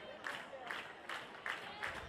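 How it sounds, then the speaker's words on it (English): High-school baseball fans in the stands of a Class 3A region final clap together in a steady beat, five or six evenly spaced bursts, faint and distant over a low crowd murmur. "their group clapping together, clapping of the hands together with 2 strikes"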